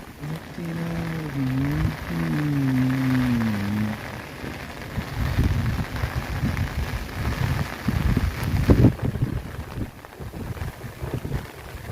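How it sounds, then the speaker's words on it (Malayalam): Heavy rain hisses steadily with gusts of wind buffeting the microphone on Kuthirakuthimala hilltop near Adimali, Idukki, as a voice briefly hums or sings at the start. "നല്ല മഴയാണ് ഇവിടെ നിന്ന് കാറ്റടിച്ചിട്ടുണ്ടല്ലോ"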